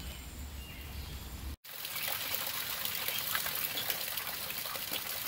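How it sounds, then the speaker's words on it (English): Steady rain pours down on a Smittybilt Overlander roof top tent, a dense continuous wash of falling water that briefly cuts out before resuming just as heavily, with no voices. "as you can see, it's still raining"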